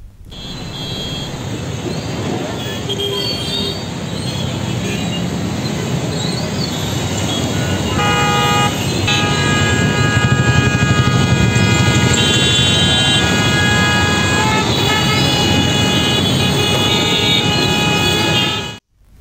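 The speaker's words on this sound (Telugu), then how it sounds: "సాయంత్రం ఒక్కసారిగా కురిసిన వర్షానికి సెక్రటేరియట్ రోడ్లో వాహనాలు నిలిచిపోయాయి." Rain-stalled evening traffic jam on Secretariat Road in Hyderabad: a constant loud roar of idling and creeping vehicles, with sustained horns blaring over it through the second half, and no voices.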